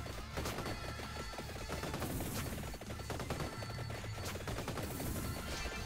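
Grenade explosions in the video game Vampire Survivors, a dense, loud, continuous barrage of overlapping bursts and crackling impacts with no pause, layered over busy game sound.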